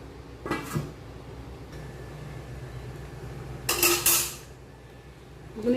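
A lid goes onto a pot of boiled chickpeas for vegetarian ghugni, giving a couple of short clanks early on and a louder metallic clatter a few seconds later, with quiet kitchen ambience in between.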